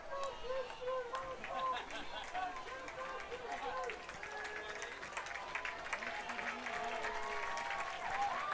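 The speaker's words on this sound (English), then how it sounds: "Crowd comes to their feet for both squads" Spectators at a 2021 IHSA girls 1A soccer championship rise to applaud both teams, fairly quiet steady clapping from the stands with scattered cheers, while a commentator talks over it.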